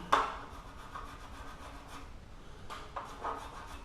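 Tungsten carbide paint denibber rubbing back and forth over a paint run, a steady close scraping rasp with brief louder strokes near the start and toward the end, no talk.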